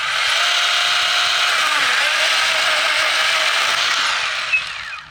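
Ryobi 18V HP pruning chainsaw cutting through wood, a loud continuous high-pitched electric whine and chatter held steady for several seconds, close up, then trailing off as the cut finishes.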